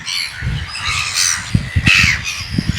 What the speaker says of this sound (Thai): โอ้โห นกเยอะมาก มันจะขี้ใส่หัวไหมเนี่ย